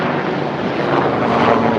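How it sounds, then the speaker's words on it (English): A helicopter passing over a seaside town outskirts in southwest England, its steady droning rotor and engine noise loud and continuous throughout, with no talk. "There goes a helicopter."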